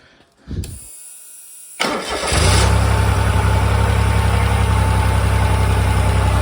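Suzuki 1.0 engine on a motor pump with a Solex carburettor and MP-800 pump is cranked and fires up, then settles into a loud, steady, even running drone, close by with no talking.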